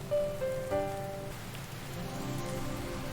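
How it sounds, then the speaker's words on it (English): Steady rain summoned by weather manipulation in the god-sim game The Immortal Mayor, a soft continuous patter on surfaces with light game music tones riding above it, no voices. "I'm gonna manipulate the weather. I'm gonna make it rainy."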